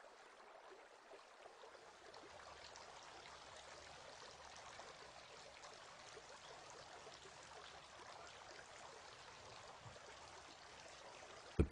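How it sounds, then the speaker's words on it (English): Running water while the beard is washed during ablution, a steady soft stream of splashing and trickling, faint and even, with no speech and a brief knock at the very end. "Washing the beard."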